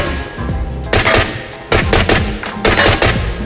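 Video game gun fired at a shooting range, three loud bursts of rapid automatic fire separated by brief pauses, each trailing into a fading echo, no talking.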